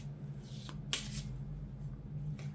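Oracle cards being shuffled by hand during a tarot reading, a soft papery riffle with a couple of brief brighter flicks over a steady low background hum, close and fairly quiet.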